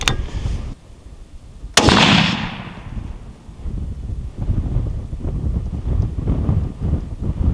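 A single sharp Remington rifle shot cracks at an outdoor range, its boom decaying quickly, with wind buffeting the microphone before and after.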